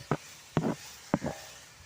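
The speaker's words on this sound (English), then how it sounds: "In with the rest of the onions and the carrots" Onions and carrots for a chicken stew going into a pan, heard as three short bursts of close clattering and sizzling spaced about half a second apart over a quiet background.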